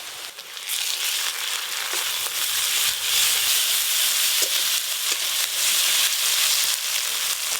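Garlic, ginger, cumin and dried red chilli pastes frying in a pan with onion for a spicy crab and prawn curry, giving a steady, close, continuous sizzle with small crackles and no talking.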